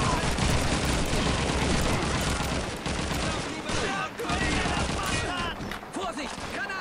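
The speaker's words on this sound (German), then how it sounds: "Kreuzfeuer." Crossfire in Call of Duty 2 brings dense overlapping rifle and machine-gun shots and booms in a loud continuous barrage, with voices talking amid the battle.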